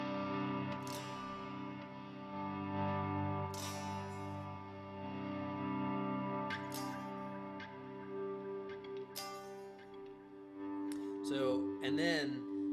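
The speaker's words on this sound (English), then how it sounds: "a short delay into a long delay, and then like a pretty long reverb" Electric guitar for contemporary worship music rings out sustained chords and notes through a short delay, a long delay and a long reverb, leaving smooth washed-out trails, with a wavering wah-like sweep near the end.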